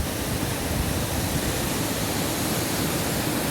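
Waterfall on the North Devon coast path, a dense continuous roar of rushing water, broad and steady with no pauses, heard alone.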